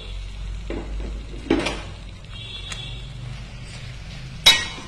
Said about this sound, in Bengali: এখন আমি দিয়ে দিচ্ছি মাছের মাথাগুলো।